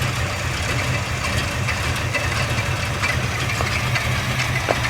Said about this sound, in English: It's idling a little low.